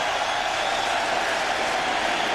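A baseball crowd at Shea Stadium during a 2000 NLCS game roars steadily after a wild pitch skips to the backstop, a dense, continuous wash of cheering and applause with no distinct voices standing out.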